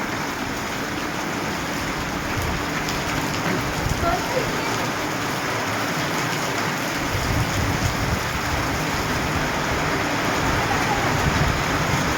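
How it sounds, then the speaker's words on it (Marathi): Heavy rain pours steadily in a village setting, a dense, loud, unbroken hiss of drops on surfaces, with faint voices in the background. "बघा बघा पावसाचा आनंद घ्या जबरदस्त मोठा झाला आहे"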